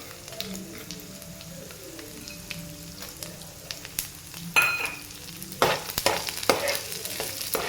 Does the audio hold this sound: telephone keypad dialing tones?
no